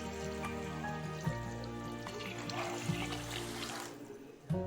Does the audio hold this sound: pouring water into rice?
yes